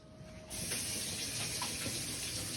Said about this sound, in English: Now I'm going to remove each chicken breast and rinse it thoroughly in cold water.